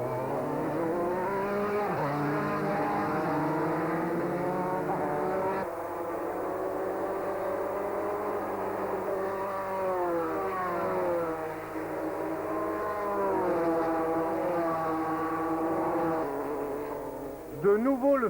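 Race cars accelerating on the Rouen-les-Essarts circuit, engines howling loud and close with repeated rising gear-change sweeps, a sustained high-revving roar that drops briefly between shifts.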